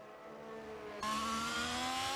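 A race car engine in a racing video game on the Zandvoort circuit, a steady whining drone that jumps sharply louder and higher about halfway through as the car passes close on the straight, then holds its rising tone.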